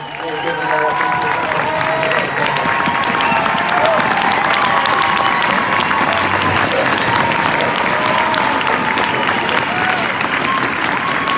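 Sustained audience applause with scattered cheers fills a large hall, a steady dense wash of clapping at full volume for the whole stretch, with crowd voices mixed in.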